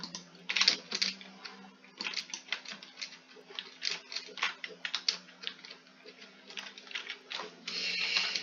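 Rapid, uneven keystrokes on a computer keyboard typing a Minecraft chat command, clattering close up in bursts with short pauses and a steady low hum underneath.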